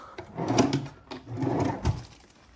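Tiny drawers in a small hotel room at Disney's Yacht Club Resort slide open with a soft wooden scrape and knock, two brief rattling pulses close by, without talk.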